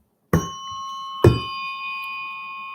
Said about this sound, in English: Koshi chimes, nice.